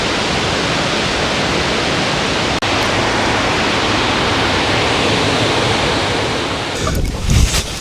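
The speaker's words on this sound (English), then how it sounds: "Look at that beautiful waterfall." A waterfall in the Kimberley of Western Australia pours as a loud, steady broadband rush that fills the whole stretch, with brief wind buffeting on the microphone near the end.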